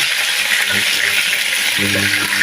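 Garlic butter chicken frying in a pan, a steady close sizzle and crackle of hot fat throughout, with faint clinks of a utensil.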